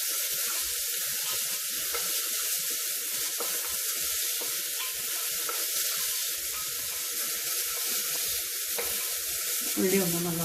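Small shallots fry in a hot pan with a steady, continuous loud sizzle close by, occasional light stirring clicks, and a brief scrape near the end.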